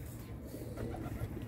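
A pigeon coos softly and close by in a brief, low burbling call during a Delhi pigeon-flying gathering.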